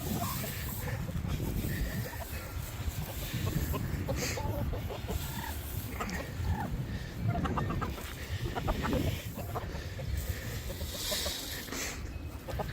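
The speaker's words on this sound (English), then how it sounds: "the chickens and the turkeys, even the ducks will get out here and they will start pecking and scratching" A flock of chickens clucks and chatters continuously while pecking and scratching on a homestead, with scattered squawks over a busy, noisy outdoor background where turkeys and ducks also roam.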